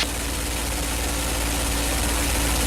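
A P-51 Mustang's piston engine drones steadily in flight, a loud continuous low rumble with a constant hum and no pauses from start to finish.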